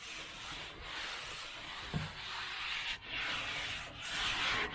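Oil being rubbed and spread across the flat steel cooking surface of a Blackstone griddle during seasoning, a steady close scraping and rubbing that goes on in broad continuous strokes with brief pauses, with no one talking.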